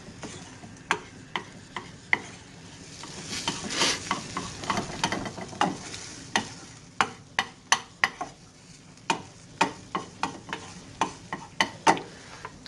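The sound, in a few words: scrambled eggs cooking in a hot lubricated pan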